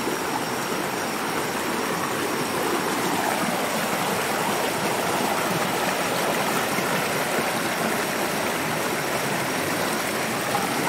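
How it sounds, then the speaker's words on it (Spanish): River El Diamante flowing along its floodplain at nightfall, a continuous rushing stream with broad, steady watery noise, moderately loud and unbroken, with no voices. "Para que vean el río El Diamante, cómo es de entrando el anochecer, la vega del río."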